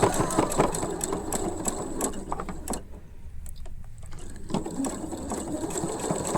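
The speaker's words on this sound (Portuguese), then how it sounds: "Passa a costura aqui em cima da costura do franzido" Sewing machine stitching a seam over a gathered seam on a child's dress of woven fabric, running in steady mechanical bursts of whirring and ticking with a brief quieter pause midway, close and loud.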